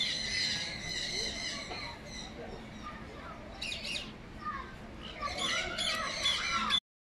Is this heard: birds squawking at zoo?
yes